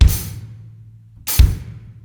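Two deep kick drum thumps with cymbal splash, played deliberately out of time, unevenly spaced over about two seconds, each decaying before the next.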